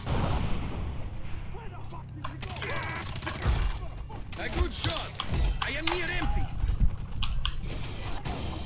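Rapid bursts of gunfire in Far Cry 3 co-op crackle over excited talking, with clicking keys and shifting in-game effects between shots.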